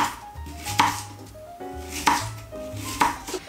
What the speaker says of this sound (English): cut it down like that and then cut that into even smaller pieces